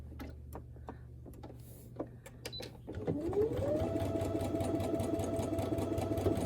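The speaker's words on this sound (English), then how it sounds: "now I want to sew it on the other side. So I'm going to go back to my machine with my 1/4 inch foot" Ticking and shuffling at a quilting table give way to a home sewing machine with a quarter-inch foot. It starts up and runs in one continuous, even whir, stitching small postage-stamp quilt patches together; it is quiet and there is no speech.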